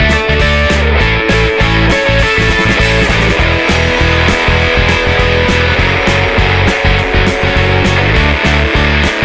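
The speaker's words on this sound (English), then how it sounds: "We're gonna just go in, sand all this out, just give it a little scuff so we can get that paint to stick real nice with it." Steady rasping scrape of hand sanding across the grooves of a wooden nine-drawer dresser, scuffing it before painting; continuous close strokes with a brief pause, no talking.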